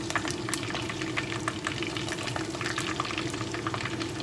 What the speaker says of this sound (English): to flip them right back in the oil